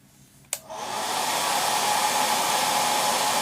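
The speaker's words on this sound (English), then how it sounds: "let me just give that a quick blast of hot air to dry off a bit." A hot air blower switches on with a click and roars steadily while drying weathering paint on a scale model French chateau, a loud, close, continuous airy whoosh.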